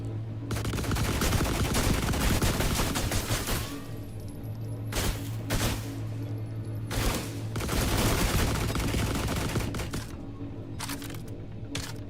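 Heavy bursts of gunfire in The Last Caretaker, dense crackling volleys separated by short pauses, loud and up close, with a low steady hum running beneath.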